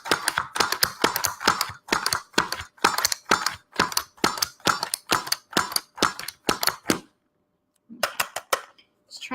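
A Pampered Chef manual food chopper is hammered down fast and repeatedly to chop sticky fire cider ingredients, giving a loud, rapid series of sharp clacks. A short pause follows, then a few more bursts.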